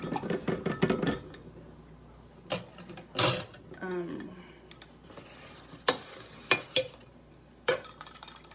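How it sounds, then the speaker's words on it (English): A whisk clatters and stirs oils in a metal pot for homemade sun protection, with sharp clinks and scraping bursts at irregular intervals separated by quieter gaps, close and moderately loud. "Maybe I will try the whisk just to see if the whisk will help."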